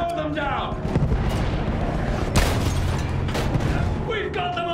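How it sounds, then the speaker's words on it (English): Dense, continuous gunfire and booming blasts from a machine gun in the Battlefield video game, loud and sustained throughout, with shouting voices over the din. "Use that machine gun! Slow them down!"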